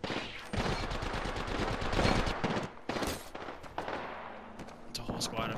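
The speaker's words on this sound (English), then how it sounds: "Listen up, I'm getting shot at." Gunfire in the battle royale game Apex Legends: rapid automatic bursts and heavy shots crackle loudly, then break off into sparser pops and mechanical clicks, with a voice talking briefly over the action.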